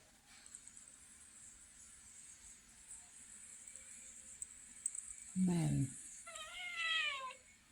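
Quiet room tone, then a cat lets out a loud, drawn-out meow followed shortly by a second, higher wavering meow.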